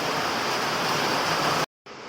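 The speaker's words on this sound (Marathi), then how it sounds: "परत जोराचा पाऊस चालू झाला त्यामुळे माझा आवाज आता कमी येईल तुम्हाला" Heavy rain pours steadily onto a terrace as a dense, loud, unbroken hiss, cutting out briefly near the end before resuming.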